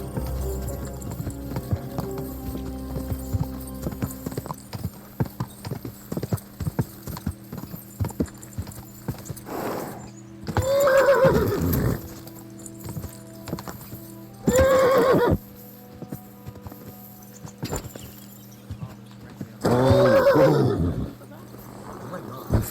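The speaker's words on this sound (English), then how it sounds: "Beautiful horse." A horse in the medieval game Kingdom Come: Deliverance 2 whinnies loudly three times, each neigh standing out clearly, while hooves clip-clop steadily and people talk over soft background music.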